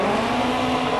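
A Ford Duratec race car runs at the Simola hillclimb, its engine a loud, steady, high-revving drone that fills the whole second without letting up, with no voices.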